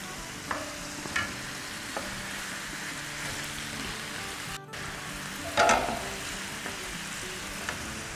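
Shrimp and fish fry on a high flame for a meat sizzler, a constant crackling sizzle with occasional clinks and a louder burst of spattering as the pieces are stirred and moved around.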